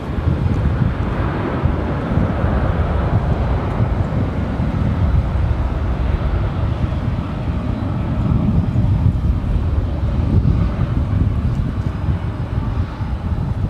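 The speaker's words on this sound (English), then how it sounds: "American 737 taking off on" An American Airlines Boeing 737 takes off from runway 18 Left at Dallas-Fort Worth airport, a loud, steady, low jet roar lasting throughout, mixed with gusty wind buffeting the microphone.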